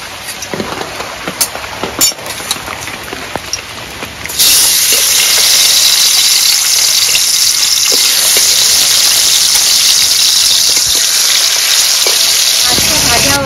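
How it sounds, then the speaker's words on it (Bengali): Hilsa fish frying in hot oil in a kadai, a loud steady sizzle that bursts in suddenly and holds strong and continuous, after a few seconds of quieter kitchen clatter. "এবার মাছটা ভেজে নেব।"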